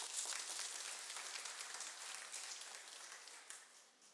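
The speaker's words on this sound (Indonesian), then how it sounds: "Kita beri tepuk tangan." A congregation in a parish church applauds after an anniversary Eucharist Mass, a soft, continuous patter of many hands heard from a distance, fairly faint and fading slightly toward the end.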